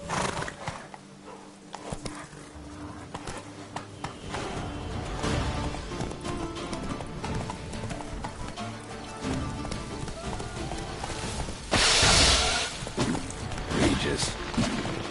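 Horse galloping in The Witcher 3 video game, steady hoofbeats running under game music and ambient rain-like noise, with voices speaking over the ride.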